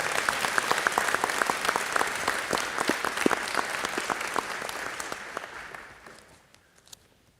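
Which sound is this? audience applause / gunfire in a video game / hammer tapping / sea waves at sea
audience applause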